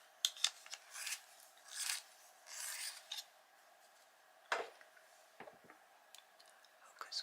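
Pencil sharpened by hand during a Halloween colouring session, giving several short scraping, rasping bursts with pauses between them, close and fairly quiet, followed by a few faint ticks.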